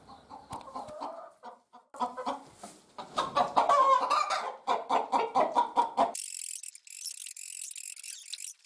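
Several chickens and a hen cluck in a farmyard coop where a hen is brooding eggs alongside a few young chicks, a busy run of close, overlapping clucks and calls that breaks off into hissing high noise near the end.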